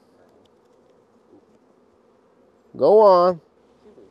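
A bee trapped inside a beekeeping suit gives one short, loud, close buzz with a wavering pitch, rising above faint background hum.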